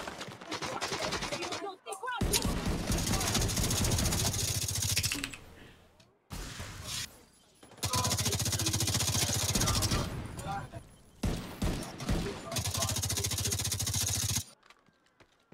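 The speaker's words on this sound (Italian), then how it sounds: "Non so perché sento quando spari." Gunfire in The Division 2, played on PC, crackles in dense automatic bursts separated by short pauses, loud and close, with a player's voice faintly present between volleys.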